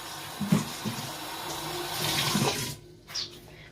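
Water runs steadily from a bathroom tap in a home, a close continuous hiss and splash with a few bumps and clunks, easing off near the end.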